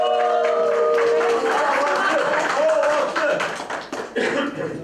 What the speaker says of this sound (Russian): дружно хлопаем.